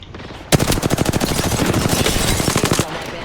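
Rapid automatic gunfire in the video game Apex Legends, a close, loud burst of evenly spaced shots lasting over two seconds against a background of game noise.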